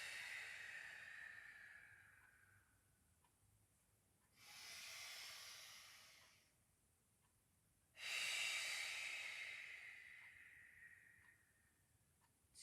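Breath pushed out during a Pilates exercise: three separate hissing exhales spaced a few seconds apart, each a loud, airy rush close to the mic, with quiet gaps between them.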